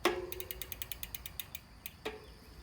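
A pedal wrench turning a bicycle pedal loose, giving a quick run of soft ratcheting clicks followed by a sharper metallic clack, close and quiet with no voices.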